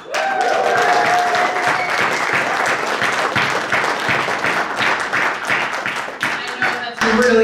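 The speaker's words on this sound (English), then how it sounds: "then you all are going to cheer" A community audience at a Southwest Minnesota Continuum of Care announcement breaks into dense, sustained applause with scattered cheers. The clapping fills the whole stretch at a steady, loud level and dips briefly near the end before surging again.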